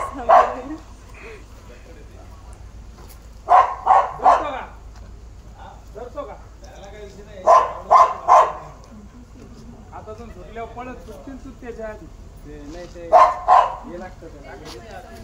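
A dog barks in short bursts of two or three sharp barks, repeated several times at close range near a non-venomous snake, while people talk in between.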